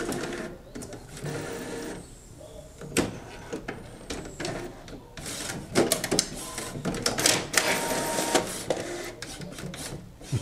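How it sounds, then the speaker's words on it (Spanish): An HP 7110 inkjet printer runs a test page after a printhead cleaning, its carriage shuttling back and forth in a steady, continuous rhythm of whirring passes and clicks, close and fairly loud throughout. "y para checar que ya el color negro imprime bien."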